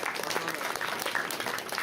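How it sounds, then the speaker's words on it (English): Dense applause rolls through the audience at an international conference lecture, continuous and fairly loud over the whole short stretch. "applause for Greece."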